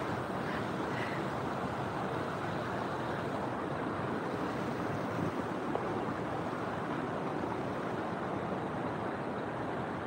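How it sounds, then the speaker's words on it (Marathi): Savatsada waterfall near Chiplun, deep in forest, pours as a dense, unbroken roar of falling water, steady and loud for the whole stretch with no talking over it. "पूर्ण असं जंगल आहे आणि जंगलाच्या मधोमध हा धबधबा आहे।"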